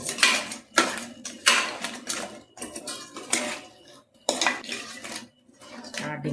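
Crab pepper masala with tomatoes being stirred in a pan, giving repeated scraping and clinking bursts of a utensil against the pan at an uneven rhythm, close and moderately loud with short pauses between strokes.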